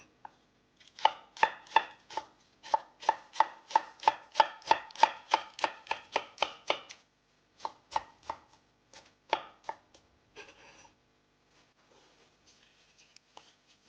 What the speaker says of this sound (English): I'm going to chop quickly the onion, green onion and parsley